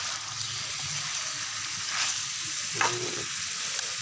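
Spicy wild boar stir-fried with vegetables such as eggplant and beans in a pot, giving a steady close sizzle with occasional scraping stirs and a brief louder clatter, no talk.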